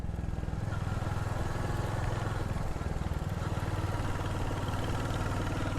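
A motorcycle rides a winding hill road toward Mukteshwar and Dhanachuli, its engine a steady, close, continuous drone with a low rumble for the whole stretch and no voices.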